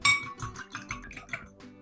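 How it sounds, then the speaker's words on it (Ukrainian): Eggs are beaten with a fork in a bowl for a filled tortilla, giving a quick run of light clinking and tapping strokes, about eight close, moderately loud beats that fade out near the end. "Тепер беру яйця і збиваю виделкою."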